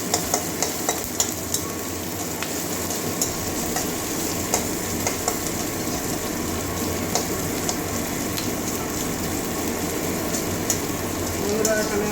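Chopped onion and ginger frying in a pan for a mixed lentil dal with drumsticks, giving a steady close sizzle with regular light clicks and scrapes of stirring, and a voice talking briefly.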